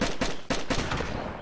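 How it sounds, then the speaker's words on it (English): Rapid DayZ video game gunshots crack in quick succession, about four sharp bursts in under a second, loud and harsh. "I'm just hearing gunshots everywhere."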